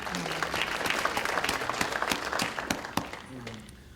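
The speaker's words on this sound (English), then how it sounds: "Can we get some applause for that?" Audience applause at a New Jersey civic event on cities and suburbs, scattered claps rising into a steady round of clapping, then thinning out and tapering off near the end.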